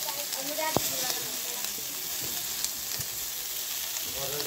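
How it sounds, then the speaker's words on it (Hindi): Fish fries in a pan with mustard, dry chillies and onion, giving a steady, moderately quiet sizzle with a few sharp clicks from stirring. "सूखी मिर्ची है प्याज है तो इधर मछलियों को अच्छे से फ्राई कर दिया जाएगा"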